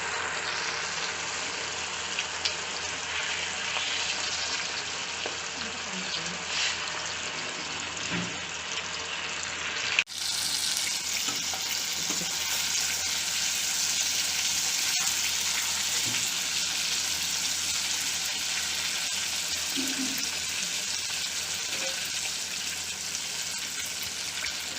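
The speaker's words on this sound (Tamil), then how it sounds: "எண்ணெய் இப்போ காஞ்சிருச்சு. இப்போ நம்ம மீன் எடுத்து ஒன்றா போட போகிறோம்." Four pieces of kaala fish, Indian salmon, fry in hot oil, giving a steady close sizzle and bubbling hiss that runs throughout, with a brief clatter partway as more fish goes into the pan.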